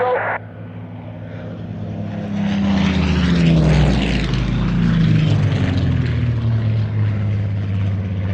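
A Supermarine Seafire, the naval Spitfire, flies past at an airshow, its piston propeller engine droning loud and close, rising and sweeping in pitch as it passes overhead, then holding a strong steady roar.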